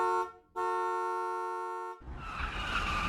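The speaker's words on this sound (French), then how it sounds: "Un klaxon super fort se fait entendre" A loud, sustained car horn blares steadily for about two seconds, cutting off abruptly into a harsh rushing crash-like noise.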